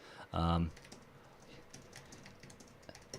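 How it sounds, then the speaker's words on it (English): Soft, rapid clicking of keys on a computer keyboard continues at close range after a short voiced sound at the start. "I'm just typing it out."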